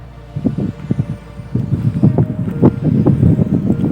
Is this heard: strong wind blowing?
yes